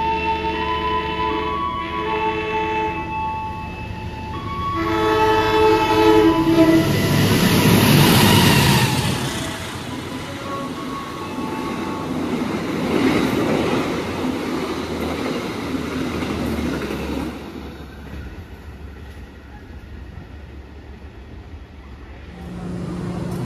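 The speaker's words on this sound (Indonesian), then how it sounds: "di Sumpiyuh ini kereta api Kuto Jaya Selatan disusul ya oleh kereta api Mataram" At Sumpiuh station in Indonesia, the Mataram express train overtakes a stopped Kutojaya Selatan economy train. A loud rolling rumble swells to a peak midway, then settles into a steadier rail hum before fading.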